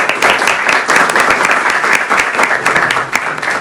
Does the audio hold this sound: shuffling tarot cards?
no